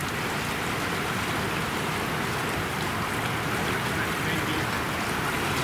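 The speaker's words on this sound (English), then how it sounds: "Some pretty good waves today." Waves wash and churn steadily on open water during a duck hunt, a continuous loud broadband rush with no pauses, as if heard from a boat near a peninsula.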